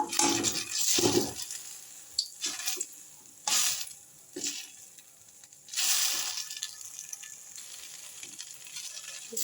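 Poppy seed fritters frying in a pan: close, bursty sizzling and spattering in uneven surges, loud at the start and again midway, with no talking.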